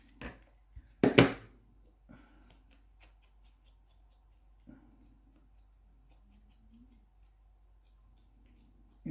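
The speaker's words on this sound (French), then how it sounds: "Je coupe l'angle qui correspond. Enfin, j'arrondis l'angle qui correspond." Scissors round off a paper corner up close, a few crisp snips clustered early followed by faint rustles and small handling taps.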